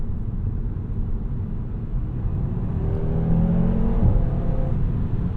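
A 2022 Audi RS3 in manual mode, its engine a low steady rumble that swells as the revs climb partway through, heard from inside the car with no talking.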